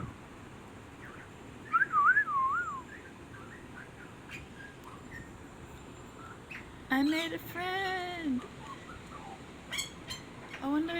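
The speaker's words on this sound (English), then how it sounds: "There's this little bird on my washing line singing." A small bird sings on a washing line outdoors, clear whistled phrases and warbling chirps that come in short bursts at moderate distance, with a person speaking briefly between them.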